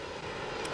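An enemy airplane flies past in a French-language video game, giving a steady, full engine drone that fills the short moment with no talk over it.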